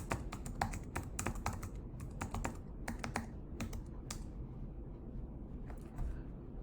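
A password is typed on a computer keyboard at an Ubuntu Linux terminal, heard as quick, close keystrokes in irregular bursts that thin out, then a few final taps near the end over a quiet background hum, with no voices.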